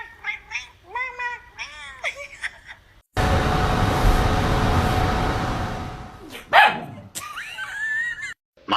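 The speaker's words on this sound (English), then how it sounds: "My deaf dog thinks she's barking." A deaf dog attempts to bark and produces a run of high, wavering yips and whines. A burst of broad noise follows, then more squeaky, strained calls close to the microphone.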